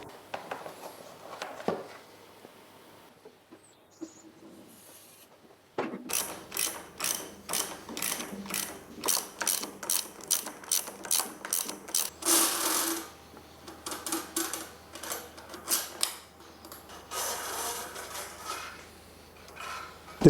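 A hand ratchet clicks rapidly in repeated bursts, undoing a bolt on the mudguard of a Triumph Trident T160 motorcycle, close and fairly loud, after a quieter stretch of workshop handling.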